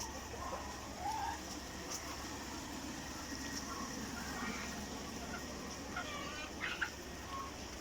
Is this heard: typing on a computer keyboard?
no